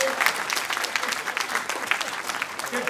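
Audience applause at a Hindi kavi sammelan comedy poetry event, a steady dense patter of many hands clapping close and loud for nearly three seconds with no talk over it.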